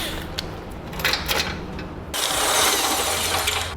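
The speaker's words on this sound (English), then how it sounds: "Now we use a 21mm socket to remove those bolts." A ratchet fitted with a 21mm socket loosens subframe bolts on a vehicle, making steady, close mechanical clicking that turns into a louder, harsher, continuous whir partway through.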